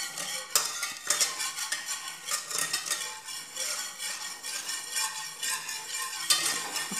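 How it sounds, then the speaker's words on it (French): A metal whisk stirs a banana dessert mixture with cornstarch in a saucepan, giving a continuous scraping, clinking rhythm of wire against the pan, close and clear with no talking. "Donc je vais d'abord mélanger comme ça avec le fouet."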